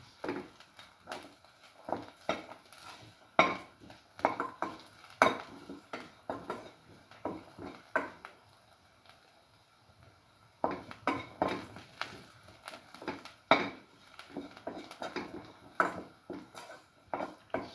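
A spoon clinks and scrapes against a bowl while salt is stirred into a mixture, giving a run of irregular, close metallic taps and scrapes with brief pauses, no voices present.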